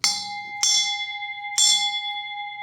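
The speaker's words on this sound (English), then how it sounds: "Just a real high pitch, long ringing bell, just for some effect stuff." A 7-inch Sabian ice bell is struck three times, each hit giving a bright, high, glassy ring that sustains and overlaps with the next, close and clear with no voices.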